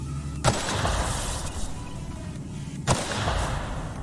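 Two heavy booming explosions go off in the video game The Outer Worlds, a few seconds apart, over a loud continuous rumble of game background noise.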